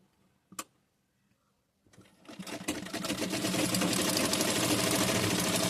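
Sewing machine stitching loose basting seams along both sides of a fish cut blouse with trendy sleeves; after a brief tap and near silence, the motor starts and runs in a steady, loud, close whir without talk.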